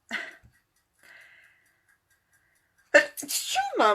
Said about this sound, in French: Je vais éternuer, désolée.